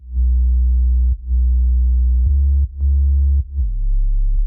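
A dry sub bass synth from the 3x Osc plugin in FL Studio, with no effects, plays deep sustained notes in a series of held tones broken by short gaps, loud and alone.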